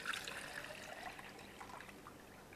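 Water is poured into a one-litre container during a maths lesson demonstration, a faint continuous trickling and splashing stream that softens slightly as it goes on.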